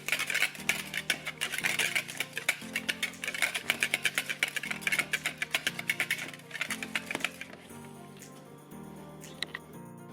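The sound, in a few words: whisking egg with canned tuna in a bowl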